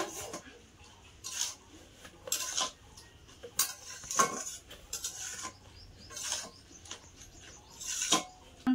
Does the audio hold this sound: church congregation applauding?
no